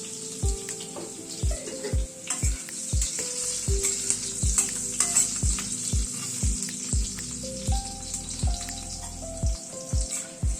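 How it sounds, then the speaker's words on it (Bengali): Boiled potato cubes sprinkled with salt fry in hot oil for a vegetarian jackfruit dish, a constant close sizzle punctuated by a regular series of sharp clinks and scrapes from stirring in the pan. "আলুটাকে আগে একটু ভেজে নিচ্ছি।"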